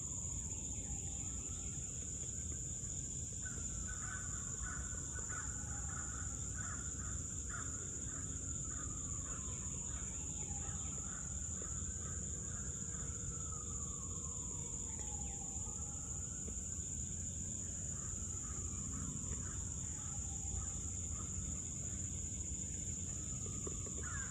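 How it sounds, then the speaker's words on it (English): A crow caws repeatedly in a steady series of harsh calls at moderate distance, over a constant outdoor background of insect or cricket hum. "that crow ain't playing today"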